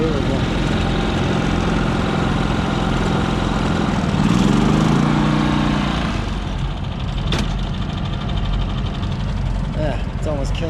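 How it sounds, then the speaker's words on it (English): A generator engine runs continuously and loudly close by, its hum steady and then shifting in pitch partway through, with talking over it. "it's almost killing my generator"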